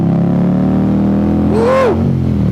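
An Indian Scout motorcycle in Wildfire Red drones loudly at highway speed, its steady engine hum rising in pitch with a quick shift into sixth gear under heavy wind noise.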